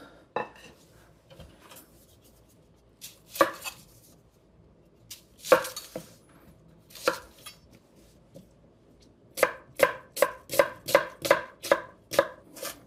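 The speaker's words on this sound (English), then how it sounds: "I'm going to add a chopped onion" A knife chops an onion on a board for a French Canadian tourtière meat pie: scattered sharp thuds at first, then a fast, even run of about ten crisp cuts, close and clear with no talking.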